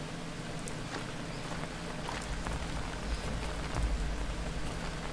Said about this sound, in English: Man, it's raining good.